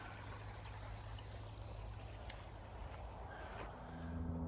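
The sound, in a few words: creek water flowing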